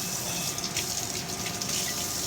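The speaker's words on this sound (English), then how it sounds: "Turn on the cold water." Cold water runs steadily from a sink tap into a basin while an espresso machine basket is being cleaned, making a continuous close hiss and splash with no talk.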